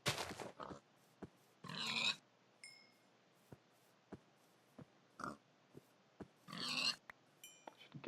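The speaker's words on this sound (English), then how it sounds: "There are a lot of pigs here." Pigs in the Minecraft game FTB Revelation give short grunts and oinks, three louder bursts spaced a few seconds apart with quieter clicks and taps between them.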